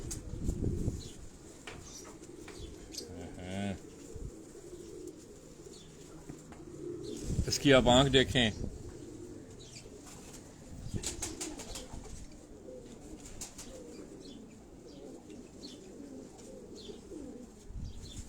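Pigeons cooing on a rooftop, with soft throaty coos and a burst of fluttering wings near the middle, close by, while someone talks at the start.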